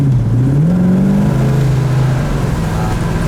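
Close, loud engine of a 1970 Chevelle SS 454 revs up, its low throaty tone rising then settling into a steady, heavy drone.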